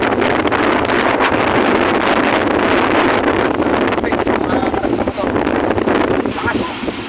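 Strong typhoon wind by a river in Gapan City roars steadily and loudly into the microphone, buffeting throughout with rustling and gusty noise, and a voice seems to speak faintly beneath it.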